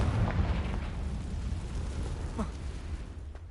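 A Confringo fire-blast spell explodes in Hogwarts Legacy, producing a loud, sustained booming rumble that rolls on for several seconds with a few sharper cracks along the way.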